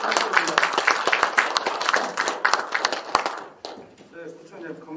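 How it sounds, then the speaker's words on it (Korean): Audience applause at a regular council meeting of a Mapo-gu advisory council in Seoul, a dense burst of clapping that fills most of the clip before cutting off, followed by a brief voice. "큰 박수 부탁드립니다."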